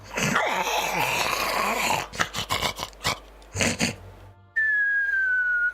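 A voice imitates snoring at a tabletop role-play session, making rasping, growling inhaled snores in uneven bursts, loud and close, ending with a long whistled exhale.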